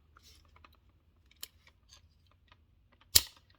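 AR-15 lower receiver takedown pin being worked, with quiet, sparse metallic clicks and taps spread out, ending in one sharp, louder click near the end.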